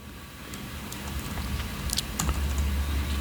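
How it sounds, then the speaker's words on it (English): Quick keystrokes on a computer keyboard while typing into a browser, a light scattered patter of clicks over a steady low hum, close and fairly quiet, with no voices. "Type Google Flow in your browser like this"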